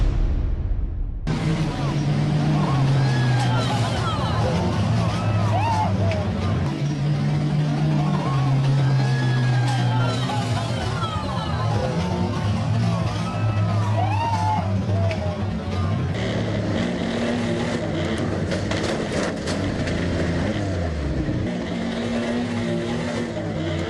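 Speedway motorcycles at a dirt-track race: loud, sustained engine roar with rising and falling revs from several machines, continuous and busy, running together on the track.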